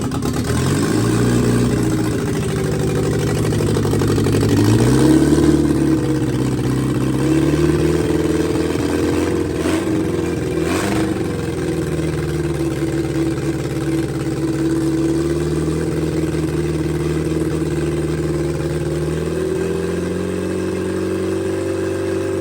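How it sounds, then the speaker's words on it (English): A Sunbeam Alpine engine on its first start runs loud and close, rising and falling through a few revs before settling into a steady, slightly rough idle, with no talking over it. "We got a running motor, baby."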